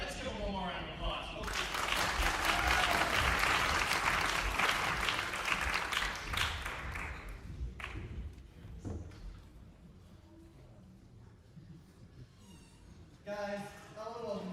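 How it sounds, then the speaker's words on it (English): Audience applause at a debate and forensics performance showcase, a dense burst of clapping swelling for several seconds then thinning out, followed by quieter room sounds and a voice at the end. "let's give them one more round of applause."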